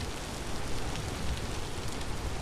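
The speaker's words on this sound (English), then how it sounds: "It is raining as usual." Steady rain in the video game Vintage Story hisses as a dense, even wash of noise, loud and unbroken throughout with no voices.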